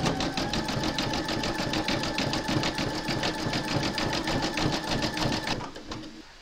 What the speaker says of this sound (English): pop your hoop into your machine and stitch round number 10, and that's going to zigzag around the raw edges